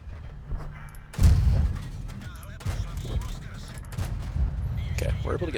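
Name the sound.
tank cannon shots in World of Tanks video game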